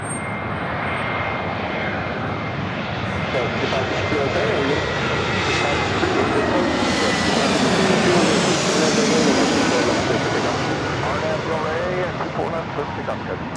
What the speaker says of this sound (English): This arrival is Spirit Airlines Flight 469 coming in from San Jose on the A320neo.